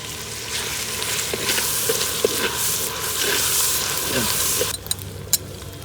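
Curry leaves and mint fry and get stirred in a pan for mutton paya (goat leg) curry, making a loud continuous sizzle with scraping spoon strokes throughout and a few sharp clinks near the end; no talking.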